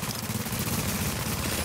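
Automated turret gunfire in a multiplayer shooter, a dense continuous rattle of rapid shots that stays loud and steady throughout.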